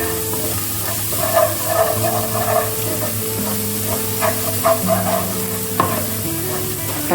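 Chopped onion fries in a pan with garlic and ginger for chicken cutlets, a loud, close, continuous sizzle broken by the rhythmic scrape of a stirring spoon, with no voices.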